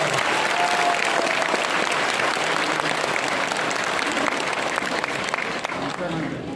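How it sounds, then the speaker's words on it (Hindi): Loud, sustained applause from a large crowd at a BJP political gathering welcoming a party leader, dense clapping filling the whole stretch with crowd noise and a voice faintly underneath. "एक बार जोरदार तालियों से जॉन मार्ला जी का।"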